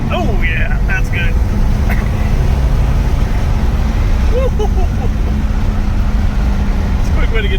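A 1964 Chevelle El Camino drives and accelerates, its engine a steady, loud rumble filling the cabin while people talk over it throughout.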